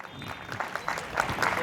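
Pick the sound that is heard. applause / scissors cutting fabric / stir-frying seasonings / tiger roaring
applause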